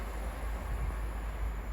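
A train passes through West Ealing station on the Great Western Main Line with a steady low rumble and a continuous wheel-on-rail roar, close and even, with no voices.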